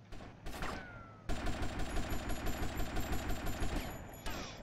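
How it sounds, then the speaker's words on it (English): Enemy gunfire in GTA Vice City: sharp, rapid bursts hammer in a steady rhythm for several seconds, loud and close, with a brief lull before the shooting resumes. "In fact, they're already starting to shoot me."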